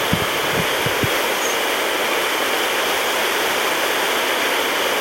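A river waterfall rushes in a steady, dense broadband roar, constant and close, with a few faint low knocks at the start and no voices.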